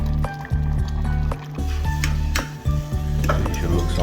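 Water is poured into a pot for boiling plantain, with close sloshing and splashing, brief pauses between pours, and a loud liquid filling sound and no talking.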